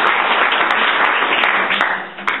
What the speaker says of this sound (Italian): ma comunque un bel applauso anche a lei.